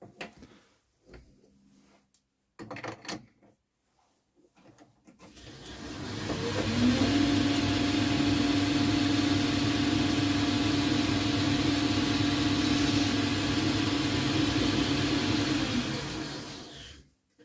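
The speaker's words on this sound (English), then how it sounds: "I'm just going to break that corner with the chamfer tool" Metal lathe running as a chamfer tool breaks the corner of a part for a 5-inch gauge diesel model, rising to a loud steady motor hum with a tonal whine, after a few quiet handling clicks.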